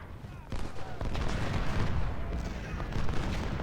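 A volley of massed musket fire from Civil War infantry in the Ultimate General: Civil War strategy game: dense, continuous crackling gunfire rolls on steadily for several seconds, with low rumbling booms underneath.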